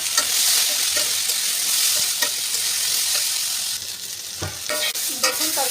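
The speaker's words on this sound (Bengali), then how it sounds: "সবজিগুলো আমি লবণ আর একটু হলুদ দিয়ে ভালো করে ভাজি করে নেব।" Vegetables fry loudly in oil in a kadai with salt and turmeric, a dense continuous sizzle broken by sharp spatula scrapes and clacks as they are stirred.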